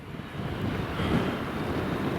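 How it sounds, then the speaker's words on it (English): Strong wind buffeting the camera microphone outdoors, a loud, continuous broadband roar that rumbles and swells unevenly with no voices over it. "so it's really windy here, so I don't know. Hope camera gets this done, can handle the wind."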